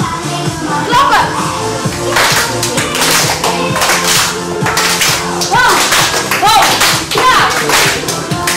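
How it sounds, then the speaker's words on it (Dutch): Children clap their hands in a rhythmic, repeated pattern during a lively group dance session, with music and kids' voices mixed in throughout. "Klappen."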